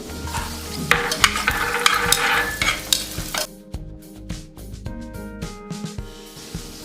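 Cashews and raisins frying in ghee inside a pressure cooker crackle and sizzle loudly, with busy metal stirring scrapes and clatter for the first half, then thinner intermittent scrapes over a quieter hiss.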